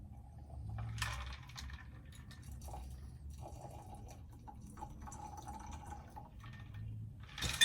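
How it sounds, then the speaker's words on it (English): Liquor pours from a freshly opened bottle into a cocktail glass for a Snow Bowl cocktail. It makes a soft, close trickle with light drips, quiet and unaccompanied by talk. "Just pop the cap and give her a pour."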